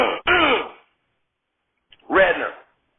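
A man coughs loudly backstage, two sharp, throaty, voiced bursts separated by a second of silence.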